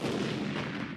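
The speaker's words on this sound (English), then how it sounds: "It shot a cannonball that damaged a wall of the fort." A large cannon of the Mexican army at the Alamo fires a cannonball, heard as a single deep, rumbling boom that rolls on for a second at a fairly quiet level.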